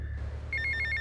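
A telephone rings in the video game GTA Vice City, with rapid repeated electronic trills that start halfway through over a low background drone.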